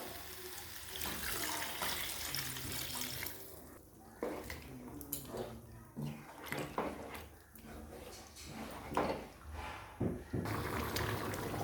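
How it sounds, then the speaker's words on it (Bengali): Water is poured into a pan of spiced potato and soybean curry as it cooks, giving a continuous splashing, gurgling pour that carries on throughout at close range. "মশলাটা ভালো করে কষানো হয়ে গেছে দেখুন তেলও ছেড়ে গেছে এবার আমি দিয়ে দেবো এর মধ্যে জল"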